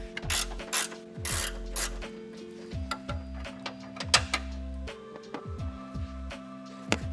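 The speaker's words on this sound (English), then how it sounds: "we're gonna be using the 12mm wrench, and we're gonna be removing this bolt right here" A 12mm ratcheting wrench clicks away at a bolt on a 2025 Toyota 4Runner hood, rapid close pawl ticks in short bursts with brief pauses between strokes.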